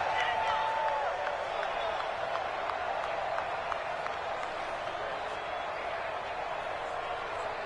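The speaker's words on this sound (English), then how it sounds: "the crowd getting into it as we come up on a big 3rd down" Football stadium crowd cheers and roars before a third down, a dense, steady wall of noise with whistles and shouts, while an announcer talks over it.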